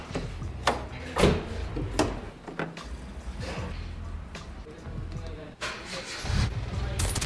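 Car known as "el abejorro" starting up and pulling away, its engine rumbling steadily with thumps of a door and handling noises along the way, heard from inside or close by.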